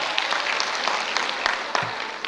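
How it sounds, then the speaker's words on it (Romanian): Steady applause from a crowd at a high school freshman ball in Focșani, Romania, dense clapping throughout with a few sharper claps standing out, fairly loud and close. "Foarte bine, aplauze!"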